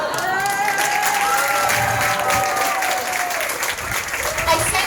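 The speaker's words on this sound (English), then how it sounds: "I said laugh, I didn't include clapping in that statement." A comedy audience watching a young stand-up comedian claps loudly and steadily, with crowd noise and cheering voices mixed in throughout.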